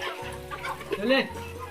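Free-range village hens cluck a few times close by in a farmyard, the short calls rising over a steady low background hum.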